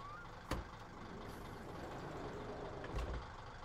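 The van in the My Summer Car video game idles with a low, steady engine rumble, heard up close but at low volume. Two sharp knocks cut through it, one near the start and one near the end.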